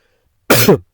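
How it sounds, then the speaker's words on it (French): One short, harsh cough or throat clear sounds close up, rough and abrupt, in an otherwise silent moment. "Alors je tousse beaucoup, pourquoi?"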